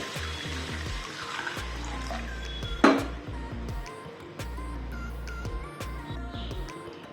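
Water pouring and splashing into a pan with turmeric for horse gram pitla, with a sharp clink partway through and a low hum underneath, close and without voices.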